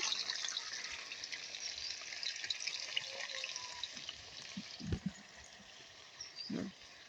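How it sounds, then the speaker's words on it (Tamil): Chopped onions sizzle in hot coconut oil in a village home kitchen, a faint, steady hiss with a couple of soft low knocks from the pan. "நாங்கள் வெட்டி வச்சுக்கிற வெங்காயத்தை எண்ணெயில் கொள்ளுவோம்"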